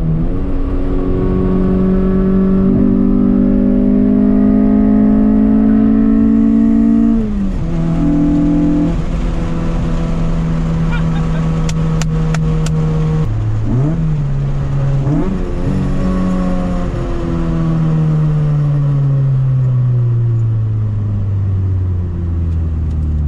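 A Honda Civic engine fitted with a new header revs up and down repeatedly, its loud, close, rumbling tone rising and falling in pitch with no voices over it.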